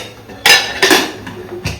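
A metal lid clatters onto a cooking pot of beef mandi, with a few sharp clanks in quick succession, a louder one followed by lighter knocks, close by in a home kitchen.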